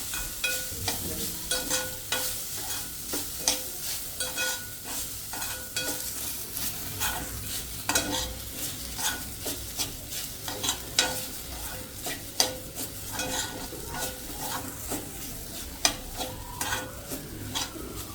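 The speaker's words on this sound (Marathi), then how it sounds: "चांगलं भाजून घेऊया तुपामध्ये चांगलं भाजून घ्यायचं" Coconut roasting in ghee in a pan, a bright steady sizzle broken by frequent scraping stirs and clicks of a spoon against metal, close up and unbroken for the whole stretch.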